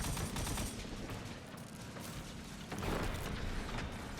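Gunfire in a Destiny 2 raid, Root of Nightmares: faint, dense rattling shots with mechanical clatter running steadily throughout, and no talk over it.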